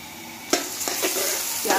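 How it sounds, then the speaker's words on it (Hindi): Three medium onions, finely sliced, sizzle in hot oil for a beef yakhni palao, a steady crackling fry broken by several sharp stirring clacks against the pot. "प्याज हमने ऑयल में फ्राई होने के लिए रखे हैं।"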